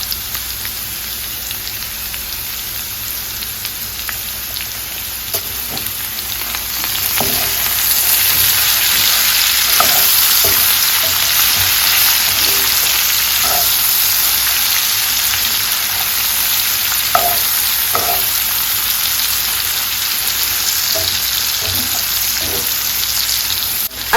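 Potatoes for home fries, seasoned with black pepper, Badia complete seasoning and paprika, fry in a skillet, giving a steady close crackling sizzle with scattered pops that grows slightly louder partway through.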